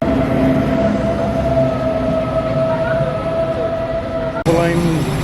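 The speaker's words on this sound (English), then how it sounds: "Here we are, boarding the train now." An Inter-City train in Cologne rumbles steadily with a tonal whine, people talking faintly over it, and a sudden clunk near the end as boarding begins.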